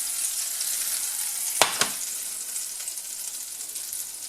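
Butter foaming in a pan before an egg goes in for a Breton galette, a soft, even sizzle with two quick sharp clicks early on and no talking.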